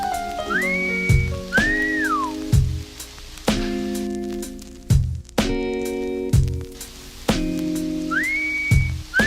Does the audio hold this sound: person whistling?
yes